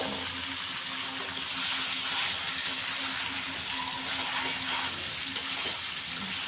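Fish sizzling in a hot pan in a home kitchen, a steady, fairly loud hiss and crackle of frying that holds evenly throughout with no voices.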